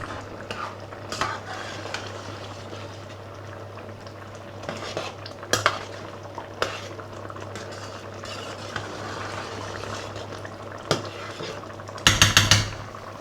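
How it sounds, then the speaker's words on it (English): A spoon stirs rice into a Spanish paella in a pan, scraping and clinking against the metal at a moderate, close level, with a louder burst of clatter near the end. "one quick mix to make sure that the rice is all incorporated with everything else"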